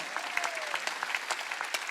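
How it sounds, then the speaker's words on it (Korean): Congregation applause at a Wednesday church service, a steady patter of many hands clapping with brief sharper claps standing out over a low background. "박수야."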